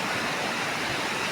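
Floodwater rushing after rain, a dense continuous roar of churning water, loud and close with no pauses.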